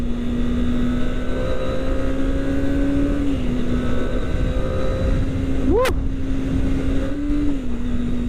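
A Kawasaki Ninja ZX-25R motorcycle in low power mode idles with a steady high-pitched hum. One quick, sharp blip of revs rises and falls partway through, and the engine settles back to an even idle.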